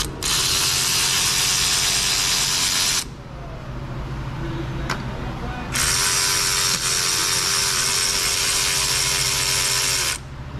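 A power ratchet or impact tool removes fasteners from a Hyundai Elantra in two long, loud, buzzing runs separated by a quieter pause with light clicks, close up and without talk.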